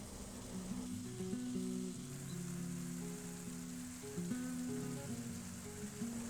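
Vegetables with tomato fry on medium heat, giving a continuous, even sizzle and crackle at moderate volume, alone without speech.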